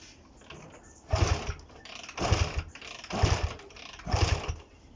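Honda CB125 RS motorcycle engine under restoration, running with the choke held on by hand, revving in four rhythmic surges over a steady idle, close and fairly loud with no talk.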